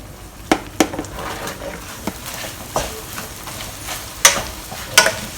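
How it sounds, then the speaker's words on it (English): Rice being stir-fried with eggs in a pan for Yangzhou fried rice, with a steady low sizzle and scattered sharp scrapes and clacks of the utensil at irregular intervals, close and moderately loud. "Now we add the rice in."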